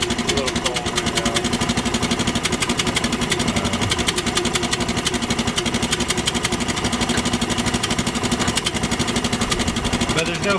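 Gas outboard motor on a sailboat running steadily after a choke start, a cold engine with a centrifugal clutch, giving a loud, even, rapid buzzing putter throughout with no break.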